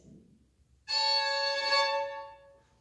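A fiddle plays an old-time style bow triplet ornament starting on an up bow on the off beat at a senior recital, one bright bowed phrase with a quick ornament, close and alone.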